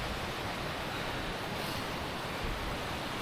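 Water rushes down a mountain gill in winter through a chain of waterfalls, cascades and plunge pools, a loud, continuous broadband roar with no voices.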